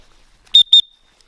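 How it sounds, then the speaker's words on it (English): A safety whistle carried on a hiking trail at East Fork Lake gives two short, shrill, piercing toots in quick succession, loud and close against near silence. "Got my handy dandy rape whistle."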